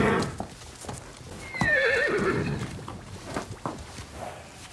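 A horse in a stable gives a loud, descending whinny in the middle, with clip-clopping hooves knocking before and after it.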